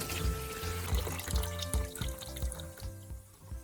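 Cleaning solution sloshing and splashing inside an old car battery as it is shaken, a steady run of liquid swishes with regular rhythmic surges, close and fairly loud, with no talking.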